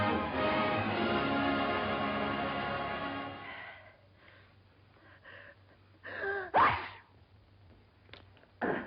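A single sharp sneeze bursts out after a stretch of steady background sound, followed by faint rustling and a quick breathy noise.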